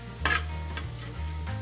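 Prawn fried rice ingredients sizzle steadily in a hot pan while a utensil stirs and scrapes against the metal a few times, close and moderately loud, with nobody talking.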